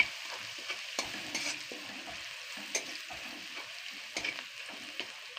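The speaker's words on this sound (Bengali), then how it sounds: "রসুনটা ভাজবো নি আধ ভাজা করবো" Garlic frying in a pan while being stirred, with a steady sizzle and scattered, uneven scraping knocks of the spoon against the pan, heard close and alone.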